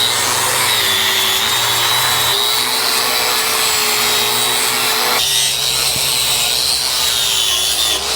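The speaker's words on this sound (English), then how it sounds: "So here's a stripping disc." A stripping disc on a power tool works over a Land Rover Series chassis, making a loud, continuous abrasive roar with a steady motor whine that shifts slightly in pitch partway through.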